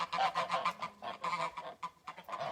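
Geese on a farm honk in a quick series of loud, nasal calls, several birds overlapping in bursts with brief gaps between them, heard close and clear.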